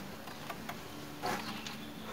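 Honeybees hum around a beehive in a quiet outdoor apiery, a faint continuous drone broken by a few louder passes as individual bees fly close.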